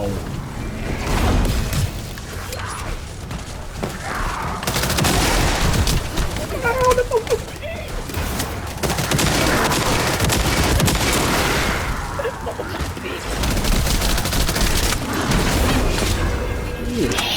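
Gunfire and explosions rattle in bursts through a combat scene in The First Descendant, loud and dense, with voices breaking in between the volleys.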